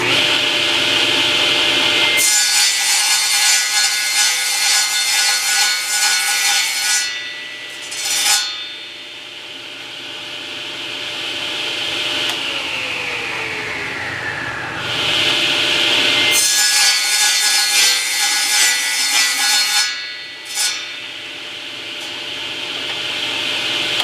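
Hand-sawing wood pieces to length for a small wall holster: two long bursts of rhythmic, rasping saw strokes, close and loud, separated by a quieter pause with brief scraping, no talk.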